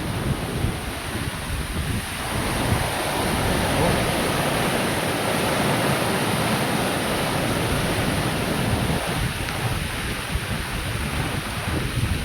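Heavy typhoon rain pours down in a dense, steady roar, loud and close with wind noise, at a trading post.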